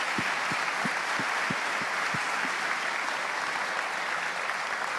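An audience applauds as the Minister of Economy departs, with sustained dense clapping at even strength throughout and a few distinct low thumps early on.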